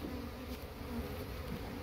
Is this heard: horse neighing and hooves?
no